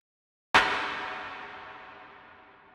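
A single sampled clap opens a track, striking sharply once and trailing into a long drum-hall reverb tail that slowly fades over two seconds.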